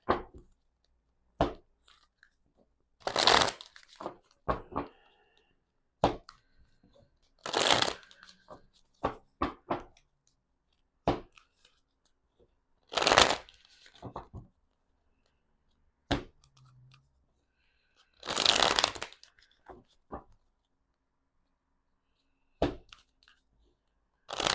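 Tarot cards being shuffled in bursts, each a brisk riffling rustle lasting about a second, separated by quieter taps and handling noises, close and dry with no talking.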